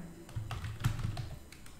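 Keys on a computer keyboard are tapped in a quick irregular series of soft, close clicks, typing a command on a Windows PC.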